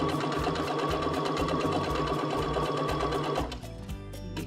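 A Baby Lock Jubilant sewing machine stitching custom piping, a loud, close, fast mechanical whirr with steady rapid needle strokes that runs continuously and then slows and changes near the end.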